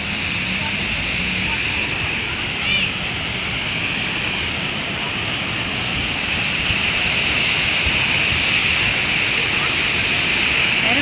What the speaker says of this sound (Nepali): यो वाटरफल हेर्नु सक्नुहुन्छ तपाईँहरूले